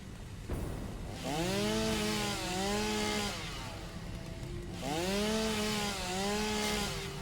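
A chainsaw in Satisfactory, struggling to clear landscape, revs in two strong sustained bursts separated by a brief idle drop, loud and near with no voices over it.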